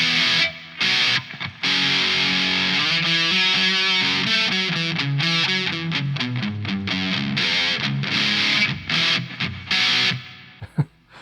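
Electric guitar run through a BOSS DS-1 distortion pedal with all controls at noon into the clean channel of an EVH amp, playing a loud, continuous fuzzy riff of chugging chords and single notes that ends with a sudden stop.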